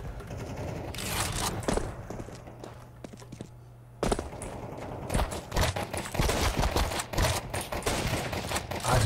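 Rapid bursts of SG rifle gunfire in Counter-Strike 2, loud and close, with clusters of shots, a short pause near the middle, then renewed firing alongside footsteps and mechanical clicks.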